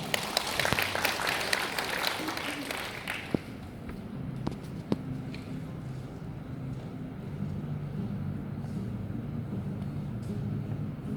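An audience bursts into applause that fills the first three seconds, then thins to a few scattered claps and fades beneath a low, steady hum.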